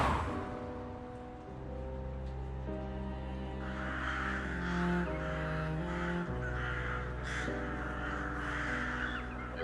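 Crows caw in a video game, short harsh calls repeating over a continuous, moody sustained music bed with no talking.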